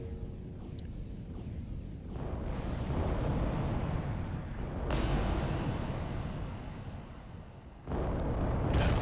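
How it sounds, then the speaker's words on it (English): Heavy weapon fire from Titan war machines in the Adeptus Titanicus tabletop-style video game, an urban skirmish: a dense rumbling roar of blasts and booms that swells and surges, loud and continuous throughout. "yeah, shots flying all over the place"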